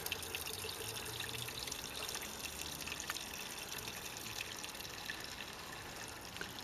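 Pre-mixed gas pours into a lawn mower's fuel tank as a faint, steady trickling hiss that holds evenly throughout, with nobody speaking.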